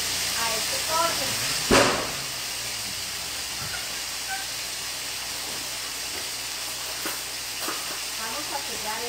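Chicken thigh pieces seasoned with salt and pepper sear in a hot pan for Peruvian arroz con pollo, giving off a steady, loud broadband sizzle and hiss. A clatter sounds near the start, and a voice speaks faintly beneath the frying.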